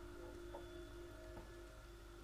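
Rain falling in The Evil Within video game, a faint steady hiss of rainfall with a couple of soft drop sounds and a low hum, constant throughout with no talking.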